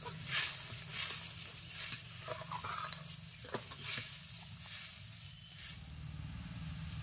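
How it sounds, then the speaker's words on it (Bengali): Fish curry gravy bubbles and boils in a pan, a soft steady hiss and sizzle with faint bursting bubbles, close and quiet throughout with no talking. "দেখো ঝোলটা টকবক করে ফুটছে,"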